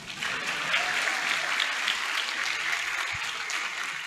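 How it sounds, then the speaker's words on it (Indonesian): An audience at an Islamic lecture breaks into applause, an even patter of clapping held for several seconds at moderate distance with no speech over it. "Nah, mau tepuk tangan lah."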